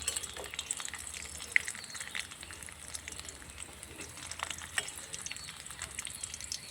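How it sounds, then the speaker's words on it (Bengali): Cashews and raisins frying together in a pan for a tomato chutney, a soft, faint crackling sizzle with occasional small pops and clicks. "কিশমিশ আর কাজু একসঙ্গে একটু ভেজে নেব"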